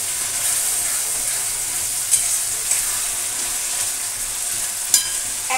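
A spice paste of onion, ginger, garlic and tomato fries and is stirred in a pan, giving a constant close sizzle broken by a few sharp scraping clicks.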